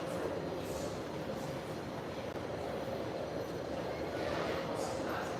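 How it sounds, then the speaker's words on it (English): Subway train in a Prague metro station, a steady loud rumble of wheels and motor running throughout with faint squeals, close by and continuous. "You see a train over here on the other side."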